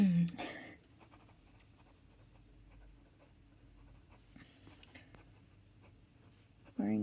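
A pen scratching ink across paper in short strokes, quiet and close, following a brief burst of sound at the start and ending as a voice begins.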